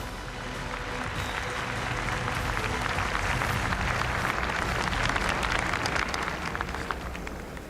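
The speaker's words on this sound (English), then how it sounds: "Please give them a big round of applause once again" Large outdoor crowd applauding after an Apache helicopter formation flypast at a national Armed Forces Day ceremony, a dense, steady wash of clapping that swells and holds for several seconds at moderate distance.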